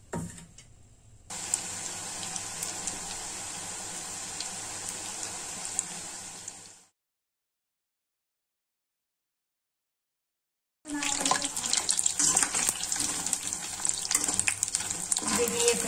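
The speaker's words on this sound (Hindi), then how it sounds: "तो अब हम पोटैटो को फ्राई कर लेते हैं" Battered potatoes for crispy honey chilli potatoes frying in hot oil, a steady loud sizzle that cuts out for several seconds of silence, then returns crackling strongly.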